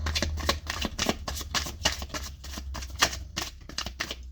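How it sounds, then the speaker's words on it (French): Tarot cards are shuffled by hand close up, a continuous soft flutter of riffling and slapping card edges with no voices. "Allez, le tarot. Alors, ça se mélange avant même que j'ai fait la coupe."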